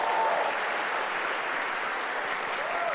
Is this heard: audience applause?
yes